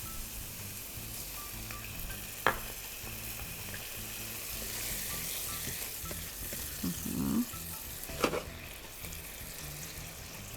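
Vodka poured into a hot pan while making vodka pasta sets off a soft, steady sizzle, with a couple of sharp clinks and a brief bubbling burst partway through; fairly quiet and free of talk.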